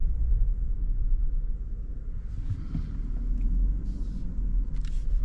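Lexus GX 550 driving with a steady low engine and road rumble throughout, a faint shift-like change in the middle of the run, with no talking.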